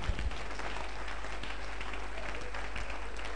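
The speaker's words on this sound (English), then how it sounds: "Give the Lord a clap offering." A church congregation claps together in a steady, dense wash of applause, with faint voices mixed in and no clear break.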